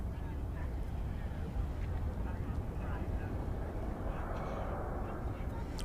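Steady broadband roar of a Viva Aerobus airliner at DFW Airport, heard from a distance with a constant low rumble, while people talk over it.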